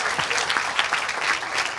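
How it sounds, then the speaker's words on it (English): An audience at a community Eid party claps in a dense, steady round of applause. The sound stays even and fairly loud throughout, with no voices rising above it. "Another round of applause for Zohair."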